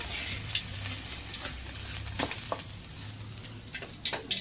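Fish fries until deep red in oil, giving a close, steady sizzle with irregular spitting pops and crackles scattered across the span.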